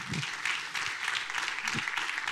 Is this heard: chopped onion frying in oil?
no